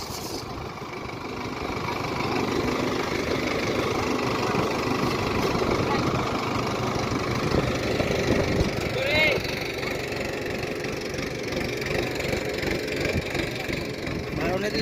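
A tractor engine idles nearby during a chickpea harvest while the crop is unloaded, a steady low rumble running throughout beneath people talking.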